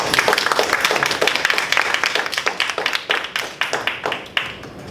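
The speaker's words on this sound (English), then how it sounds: "Let's give him a big round of applause." Applause from the audience at a Toastmasters meeting, a steady run of many hands clapping that thins out toward the end, with faint voices underneath.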